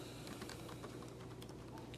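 Keys clatter in quick, uneven bursts on a computer keyboard at a desk, with the soft taps running steadily over a low hum and no one talking.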